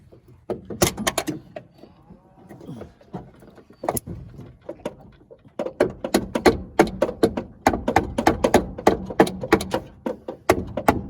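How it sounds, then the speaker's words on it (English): A screwdriver pries and pulls a part loose on a 1962 Rambler under restoration, giving a close, irregular run of sharp metallic clicks, knocks and scrapes that grows busier in the second half. "Get this screwdriver in on an angle to pull it away."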